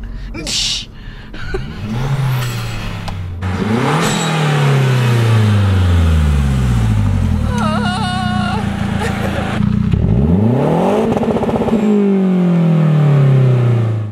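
A Mazda 3 MPS fitted with a dump valve revs hard several times, engine pitch sweeping up and falling back in repeated loud pulls, with short hissing blow-off bursts between them and voices talking inside the car.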